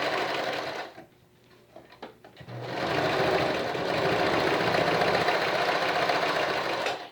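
A Brother XL 3010 free arm sewing machine running a zigzag stitch, a steady fast mechanical whirring hum that stops briefly after a second and then resumes continuously at close range.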